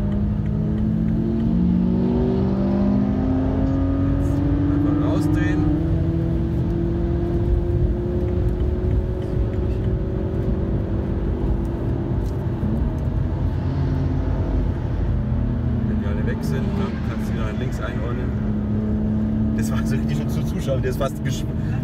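A race car engine drones and climbs in pitch on the Nordschleife, heard steadily from on board under continuous conversation between two men.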